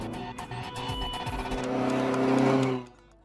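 A rare Toyota Corolla Levin with a 1.6-liter four-cylinder engine runs steadily, its tone building slightly before cutting off near the end, with no talk over it.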